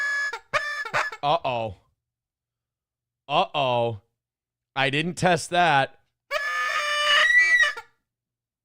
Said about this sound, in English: That doesn't sound like a noisemaker. That sounds like dying chicken.